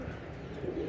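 Pigeons coo softly in a loft where young birds are being released to fly for the first time, a low murmuring call under steady outdoor background noise.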